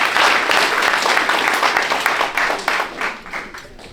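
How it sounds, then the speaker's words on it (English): A crowd at an Oklahoma boxing and combat sports awards event applauds a six-time national boxing champion; the clapping starts full and loud, then thins out and fades over the last second or so. "So one more round of applause"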